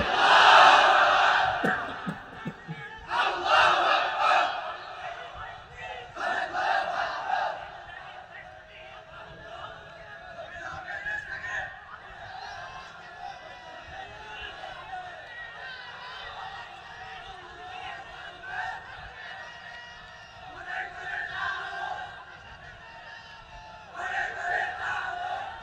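A large gathering at an Islamic religious sermon gathering shouts back in unison in answer to a takbir call, with repeated loud bursts of massed voices rising and fading over a continuous crowd murmur.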